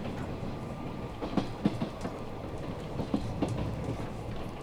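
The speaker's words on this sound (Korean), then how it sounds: "기차는 보성역에 도착했다." A passenger train runs along the rail line toward Boseong Station, with a steady rumble and faint clickety-clack of wheels over rail joints. Soft knocks recur throughout, heard from inside the carriage and without talk.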